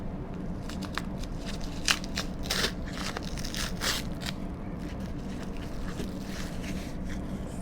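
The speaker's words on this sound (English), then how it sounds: "let me unwrap this" Cellophane packaging is peeled and crinkled off a gold chain, with soft, close crackling and rustling bursts at an irregular rhythm, fairly quiet overall.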